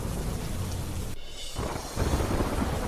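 Heavy rain pours down near Nani Pardi village during flooding, a loud dense roar broken by a brief lull before the downpour surges back, with a thunder-like rumble in the low end.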